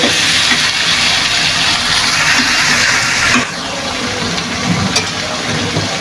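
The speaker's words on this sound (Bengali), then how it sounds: "আমি শুধু তেল মাংস দিয়ে দিব নাড়াচাড়া করে দিতে হবে আমি এটা ভালোভাবে কষিয়ে নেব" Chicken pieces frying in oil for a chicken and potato curry, stirred in the pan: a loud, steady sizzling hiss that drops somewhat quieter midway, with occasional stirring knocks.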